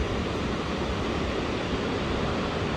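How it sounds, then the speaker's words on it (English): Burney Falls waterfall in California roars as a steady, loud, broadband rush of falling water, continuous and unbroken throughout with no voices. "We're at Burney Falls here in California"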